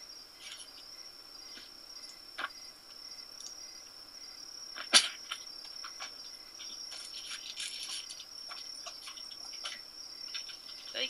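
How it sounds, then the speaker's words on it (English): Crickets chirp in a steady high-pitched trill that runs throughout, with a few faint clicks and one sharp brief sound partway through, and no talking. "Crickets."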